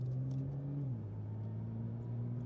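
A car with freshly fitted brakes and clutch pulls away, its low engine rumble steady and fairly faint, with the pitch dipping slightly partway through.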